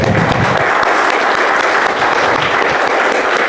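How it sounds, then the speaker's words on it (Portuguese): Loud, dense applause fills a church service, many hands clapping steadily and continuously from a congregation with no pauses. "O Senhor Jesus, uma linda salva de palmas, amém?"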